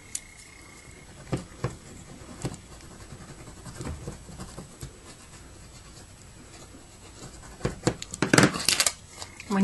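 Scissors cutting a paper photo for resin charms, scattered close snips and scratchy paper sounds, growing busier and louder near the end.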